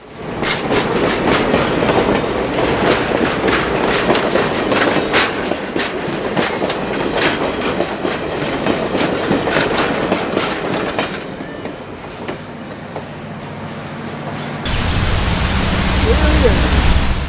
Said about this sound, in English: We see the train again crossing the famous Willie Brook Bridge.